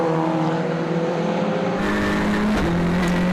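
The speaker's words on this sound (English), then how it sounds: "Max Brahms in the number 70 car." Renault Clio Cup race cars at Zandvoort circuit roar past at full throttle, a steady loud engine drone with a sharp pitch shift midway as a car passes close, no talk over it.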